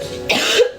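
A single person coughs sharply, close and loud, a short burst followed by a second brief cough, with no talking during it.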